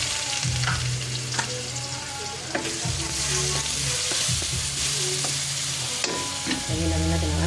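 Garlic and onion sauté in a hot pan for Bicol express, a steady close sizzle broken by repeated scraping and clinking of a utensil stirring against the pan, with no talking.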